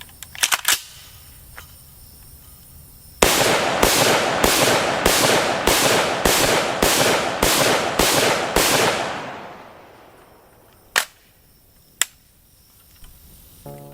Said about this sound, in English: the gun can be fired with the stock folded